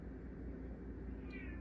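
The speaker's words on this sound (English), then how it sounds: "oh, I hear the kitty" A cat gives a brief, faint meow late in a short stretch of low indoor rumble, distant and alone without talk.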